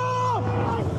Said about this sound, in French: 7 militaires prennent place à bord de ces 2 Zodiacs ultra rapides